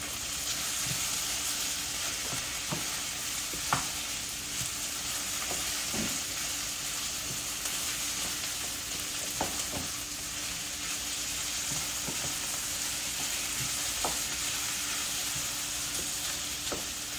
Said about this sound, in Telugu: సో ఇప్పుడు వీటిని కలపాలి బాగా